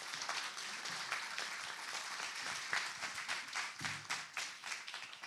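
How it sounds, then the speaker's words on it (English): A forum audience applauds its panel at the end of a discussion on fair rent commissions, with dense, steady clapping from many hands that continues for several seconds in an indoor hall. "One last big round of applause to our panelists."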